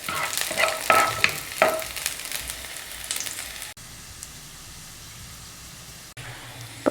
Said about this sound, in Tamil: நல்லா மொறுன்னு லோ ஃப்ளேமில் வச்சு வறுத்தெடுக்கணும்